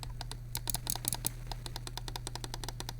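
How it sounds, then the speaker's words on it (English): A Logitech G203 mouse scroll wheel is clicked repeatedly, giving quick, close, faint ticks in a rapid, slightly uneven series against a quiet steady hum. "Scroll wheel click."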